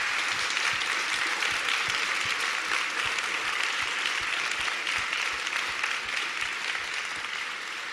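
An audience at an early-voting campaign stop applauds for moms, organizers and volunteers, a sustained, loud wash of many hands clapping that stays fairly even from start to finish.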